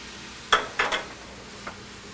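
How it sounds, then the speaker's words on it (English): A spoon stirring Hungarian mushroom soup with paprika and dill in a pot: a few short scraping knocks against the pot over a quiet, steady sizzle. "Stir this up really good."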